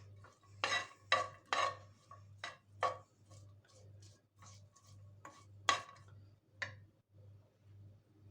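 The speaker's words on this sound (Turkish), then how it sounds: "Tavaya zeytinyağını koyuyoruz. Daha sonra üzerine soğanı ilave ediyoruz." Onion fries quietly in olive oil in a pan, a faint sizzle under a series of about a dozen sharp stirring scrapes and taps against the pan, with a low steady hum behind.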